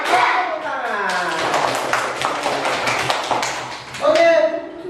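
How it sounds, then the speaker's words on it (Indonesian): Students in an Islamic religious education classroom break into a quick burst of rapid, dense hand clapping lasting a few seconds, loud and close, after a chanted cue from the group and before a voice resumes. "tepuk tangan."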